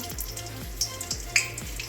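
Whole garam masala spices frying in hot oil with a little sugar for mutton kosha, a steady close sizzle with a few sharp crackles and pops.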